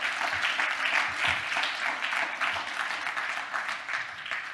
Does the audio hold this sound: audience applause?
yes